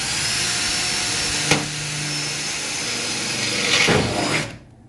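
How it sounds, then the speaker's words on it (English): A power drill bores a pilot hole for a rivnut insert on a fender flare, running with a steady whine broken by two sharp bite or catch sounds before spinning down and stopping. "I'm going to drill a hole."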